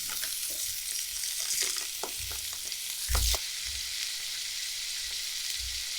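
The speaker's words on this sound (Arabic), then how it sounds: "وبعدين هننزل بيه في الطاسة واحدة واحدة لحد ما ياخد لون" Pieces of sujuk sausage frying in a pan: a soft, even sizzle overlaid with irregular clacks and thumps as the pieces are laid in and shifted, close and moderately loud, one heavier knock near the middle.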